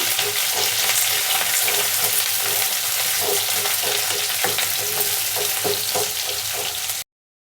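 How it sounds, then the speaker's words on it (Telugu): Onions fry with curry leaves in oil for a cabbage and chickpea curry, giving a loud, dense, continuous sizzle with occasional stirring scrapes, close up and without talk, ending abruptly. "కరివేపాకు పచ్చివాకును పోయేదాకా ఉల్లిపాయలను వేయించుకుందాము"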